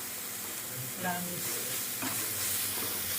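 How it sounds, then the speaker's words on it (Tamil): Food sautéed without water in a pan for a breakfast dish, with a steady soft sizzle and a couple of brief scraping stirs, close and fairly quiet, no talking. "நம்ம இப்படி வதக்கணும்"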